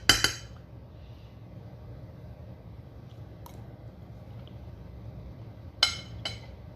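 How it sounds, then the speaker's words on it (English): Cutlery and dishes clink sharply a few times while someone eats, with a cluster of clinks at the start and another near the end over a quiet room background. "if you hear noise in the background, that's because I'm eating right now"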